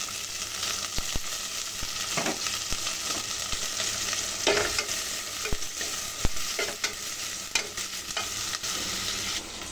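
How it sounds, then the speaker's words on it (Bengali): Dried fish and onion frying in a pan on a small gas cylinder stove, a constant sizzle broken by repeated scraping and clacking strokes of a stirring utensil, close and with no talk. "পেঁয়াজটার সাথে শুটকিটা ভেজে নিব।"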